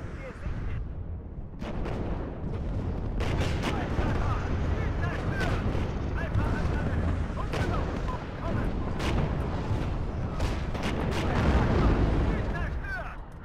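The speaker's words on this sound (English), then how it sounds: "Artillery's happy firing away" Artillery in the war game WARNO firing repeatedly, heavy booming shots and distant explosions rolling one after another over a continuous rumble of battle, loud and sustained throughout.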